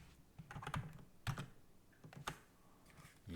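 Computer keyboard typing during a network programming lecture, a short burst of quick clustered keystrokes with pauses between them, faint and close, with no voice.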